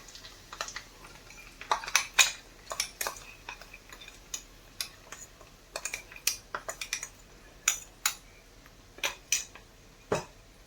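A spoon stirring ground gongura leaves in a metal pot, with quick irregular clinks and scrapes repeating close by, no voices.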